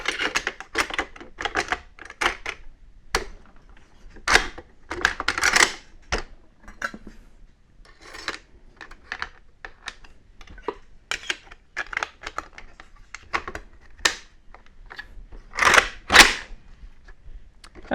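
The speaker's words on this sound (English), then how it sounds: "Of course, we need to reassemble the rifle." An AK rifle being put back together after a TAPCO SAW grip install, with a busy run of sharp metallic clicks, clacks and snaps, some loud, in an irregular rhythm and no talking.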